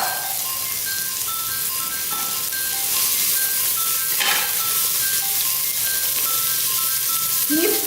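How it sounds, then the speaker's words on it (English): Chopped onions fry in hot oil in a pan for mutton biryani, a steady loud sizzle with occasional stirring scrapes and light metallic clinks, close up and without talk. "Now I add the chopped onions to the oil and fry it till the onions become translucent."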